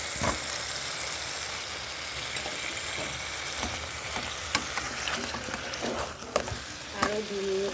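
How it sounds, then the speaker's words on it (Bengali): Spiced meat curry being sautéed with fried potatoes in oil, a steady close sizzle with intermittent scraping and clinking of a spoon stirring against the pan. "তেল না ছাড়া পর্যন্ত আমি কষে যাবে"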